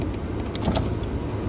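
A high-mileage car with 100,000 miles idles roughly on a gravel drive, a steady low rumble with faint clicks and whirs over it. No talk.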